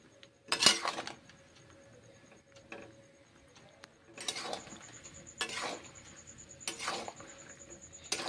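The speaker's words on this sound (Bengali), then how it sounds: "কষে নিচ্ছি মাশরুমগুলো" A spoon or spatula scrapes and knocks against a pan as mushrooms are stirred during sautéing, giving several sharp, separate clatters between quieter stretches with a faint low hum behind.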